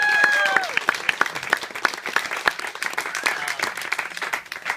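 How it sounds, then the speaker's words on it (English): Audience applause at a speech, a steady burst of many hands clapping with sharp individual claps, close and fairly loud, fading toward the end. "I just want to give a round of applause for my parents."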